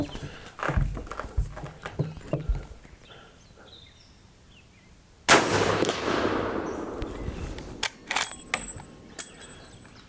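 A Henry lever-action rifle with a brass octagonal barrel in .45-70 Government fires one sharp, loud shot midway, followed by a long reverberating tail and some mechanical clicks, after quieter handling noises.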